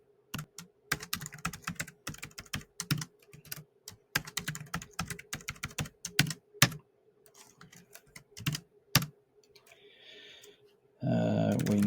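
Fingers type a username and password on a computer keyboard while setting up a Grandstream UCM6300 series IP PBX: close, irregular bursts of key clicks with short pauses, ending in a sudden loud noise.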